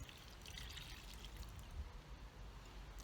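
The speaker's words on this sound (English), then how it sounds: "we'll give our plant a water." Water poured steadily onto a potted tomato plant indoors, a soft continuous trickle and splash, quiet and close, with no talking.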